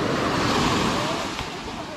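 Loud, dense roar of ocean surf and water washing in at a beach in Real, Quezon, slowly easing off toward the end, with some wind buffeting the microphone.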